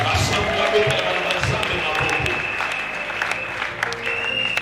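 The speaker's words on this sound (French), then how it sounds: "Et laissez acclamer la parole du Seigneur." Church congregation in Boma applauding during a worship service, loud sustained clapping with cheers and a voice over it, carrying on throughout.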